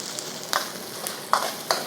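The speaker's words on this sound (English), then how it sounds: "So I'm just going to keep stirring this around" Beef stir-fry sizzling in a wok, with a steady frying hiss and a few sharp scraping clatters as it is stirred; close and moderately loud, with no talking.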